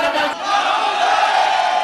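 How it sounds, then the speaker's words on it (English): A concert crowd in Bahrain cheers for a rapper, a dense, continuous roar of many voices with shouts rising through it, loud and sustained throughout. "You see the energy in the crowd right there."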